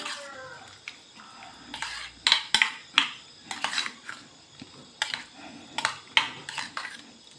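A spoon clinks and scrapes against a pot of vegetable pulao in irregular strokes, fairly close, with soft voices faintly in the background.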